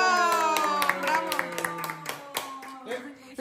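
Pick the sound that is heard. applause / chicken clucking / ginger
applause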